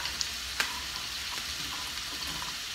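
Carrots, golden beets, celery and kohlrabi fry in butter in a cast iron pan with a steady, dense sizzle and a few faint stirring clicks, heard alone and close.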